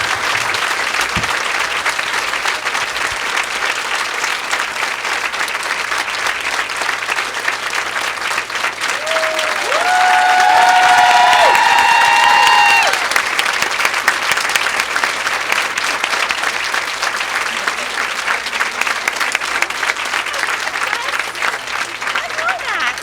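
A large audience at an author event for Jenny Lawson breaks into loud, steady applause that holds for many seconds, swelling briefly before settling back into sustained clapping.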